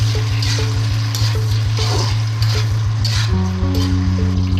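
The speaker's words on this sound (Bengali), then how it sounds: "কাঁকরোলগুলোকে ভেজে নিব।" Teasel gourd pieces frying in hot oil in a wok, a constant sizzle and crackle heard up close, with a steady pulsing hum underneath and occasional soft clinks.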